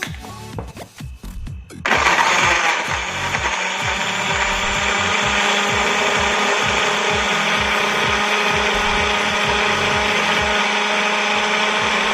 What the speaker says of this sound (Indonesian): Sekarang kita akan mulai memblender